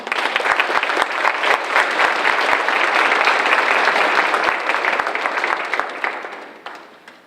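Audience applause welcoming a speaker to the podium at an enlistment recognition ceremony, steady dense clapping from a crowd that holds for several seconds and then fades out.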